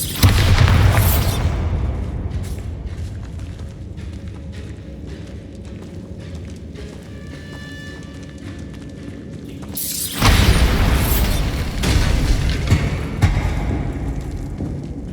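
The Bombarda spell in the video game Hogwarts Legacy sets off a loud booming burst at the start and another heavy blast about ten seconds later, with quieter rattling, mechanical sounds in between.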